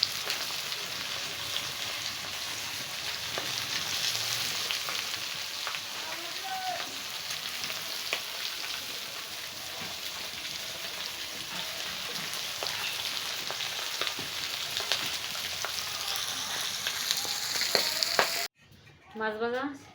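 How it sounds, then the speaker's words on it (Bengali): Chital fish crisp-frying in hot oil, a steady loud dense sizzle and crackle that fills the whole stretch, close up, cutting off abruptly near the end. "কড়া কড়া ভাজি করবা।"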